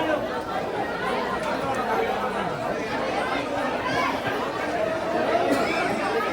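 A dense crowd chatters at a busy entrance, many overlapping voices forming a steady murmur close by.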